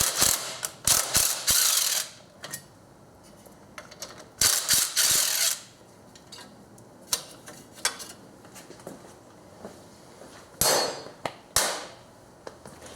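A hand ratchet clicks rapidly in short bursts while 10mm bracket bolts are backed out on a Subaru engine bay, close up, with quiet gaps and light metallic clinks between the runs.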